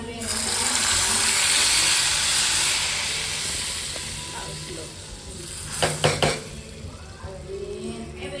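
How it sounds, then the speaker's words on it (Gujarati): Garlic tadka poured into dal for a home meal, a loud steady hiss of hot oil that swells in the first seconds and slowly fades, with a few clinks of a pot or spoon near the end. "તડકો રેડી છે લોક લસણનો અને આપણે આમાં નાખી દઈએ"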